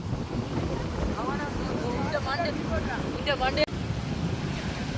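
A boat approaches across choppy sea off the Jaffna coast, a low steady engine rumble under heavy wind buffeting and surf, with a sudden clunk partway through and no voices.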